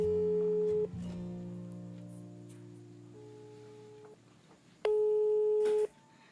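A telephone ringback tone on an outgoing call, steady electronic tone bursts separated by pauses, clear and close with a quiet background.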